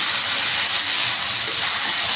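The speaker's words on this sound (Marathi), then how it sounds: "याच्यामध्ये सुद्धा आपला छान कांदा फ्राय होतो." Onion frying in a little oil in a pan gives a loud, close, continuous hissing sizzle that holds steady without pause.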